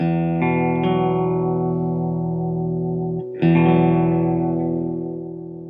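Sustained, ringing electric guitar chords on a cheap guitar fitted with a Dorian LRQC-1 bridge, with a bright, bell-like piano quality, struck twice with a short gap, then slowly decaying.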